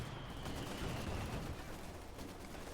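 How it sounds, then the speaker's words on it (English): Mortar fire during a Company of Heroes 2 battle between Wehrmacht and Soviet forces, heard as a continuous rumbling wash of distant gunfire and explosions with no clear individual shots standing out. "Mortar firing off."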